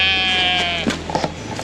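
A sheep out on the Lake District fells near Fellbarrow gives one long, loud, wavering bleat close by, followed by faint outdoor knocks and rustles.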